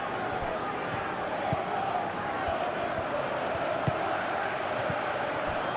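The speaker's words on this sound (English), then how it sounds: "the crowd are reacting to that now" A simulated stadium crowd in the football video game PES 21, during a Chelsea vs Manchester City Premier League match, keeps up a constant dense roar with occasional sharp thuds and knocks.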